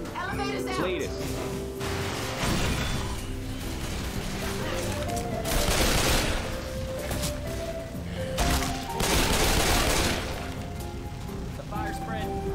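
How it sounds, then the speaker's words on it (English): Gunfire rips through a zombie horde in the video game Left 4 Dead 2, with dense bursts of shooting peaking twice amid constant game noise while players talk excitedly over it. "Shoot the zombies!"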